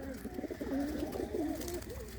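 Home-bred domestic pigeons in a Punjabi fancier's loft at Mahmoodpur coo close by, a steady run of soft, rolling, wavering calls overlapping one another with no talk.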